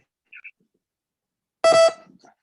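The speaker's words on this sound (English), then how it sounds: "Sorry for notifications." Computer notification sounds: two tiny chirps, then after a pause a louder, brief electronic beep tone, close and clear against silence.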